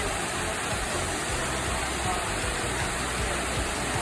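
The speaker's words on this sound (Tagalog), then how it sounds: "Pangas Falls." Pangas Falls in Bohol, a steady, dense rush of falling water that fills the clip with unbroken hiss and roar.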